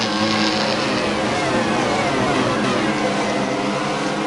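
A 2002 Formula 1 car engine in a racing video game, heard onboard with Michael Schumacher at the Grand Prix of Europe, a loud, steady high-pitched engine whine held throughout without talking.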